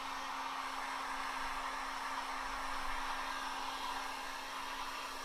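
Heat gun blowing hot air on window tint film, a steady close-up roar with a constant electric hum underneath, unbroken for the whole stretch and with no talking.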